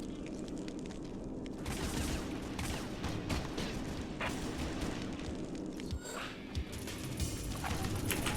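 Assault rifle fire in the shooter game Red Faction during a multiplayer match, rapid bursts of shots crackling in repeated volleys over a steady background bed, fairly close and loud.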